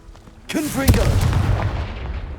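A Confringo spell explodes in Hogwarts Legacy: a sharp magical whoosh, then a deep booming blast that rumbles and fades over about two seconds.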